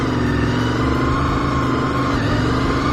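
A car spinning around in a road intersection, its engine revving hard and steadily for the whole stretch beneath loud, constant road and wind noise.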